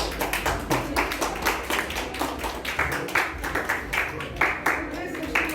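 An audience at a youth meeting claps for the youth leader of the day, steady applause of many hands that carries on for several seconds at moderate distance.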